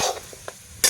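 Potatoes frying in a pan, with a steady sizzle broken by short stirring scrapes and ending in a louder burst of hissing.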